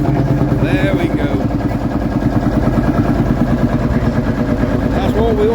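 A vintage Marshall tractor engine revs loudly and steadily up close, a chugging throb at a fast even beat at an outdoor vintage tractor and stationary engine show, with people talking over it.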